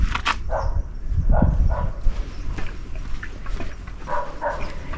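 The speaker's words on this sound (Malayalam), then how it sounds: "അയ്യോ പട്ടി" A dog barks a few times in short bursts outdoors in a sunny forest park, its sharp yelps scattered over steady background noise with no talking.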